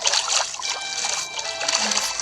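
Water splashes and sloshes as people wade in, a close, busy spatter of small bursts with little talk.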